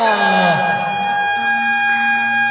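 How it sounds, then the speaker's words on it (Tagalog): A loud, sustained electronic basketball game buzzer blares at the end of a quarter with a harsh tone, dipping briefly then holding steady until the end. "Buzzer na lang maririnig nyo."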